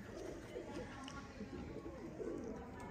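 Sialkoti Teddy pigeons coo in soft, repeated low throaty rolls at moderate distance, faint within a steady hiss of room noise, with no talking.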